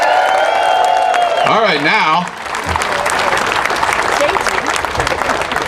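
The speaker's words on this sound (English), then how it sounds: "So give yourselves a round of applause." Crowd applause at an outdoor May Day rally in a Palm Springs park, broad continuous clapping that swells after an amplified voice speaks over a sustained tone, then carries on steadily.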